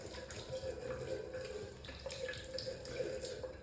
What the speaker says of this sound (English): Just gonna rinse this, set it down over here.